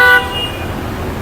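A car horn honks sharply for a split second at the start, then gives way to steady road and traffic rumble in heavy congestion near the Skyway in Alabang.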